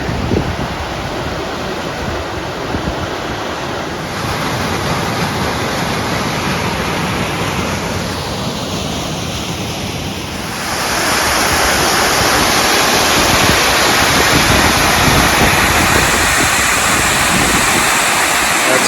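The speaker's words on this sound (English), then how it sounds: "Kings Creek Falls, bigger than I thought it would be." Kings Creek Falls in Lassen Volcanic National Park, Northern California, roars steadily, a dense rushing wash of water that grows louder partway through.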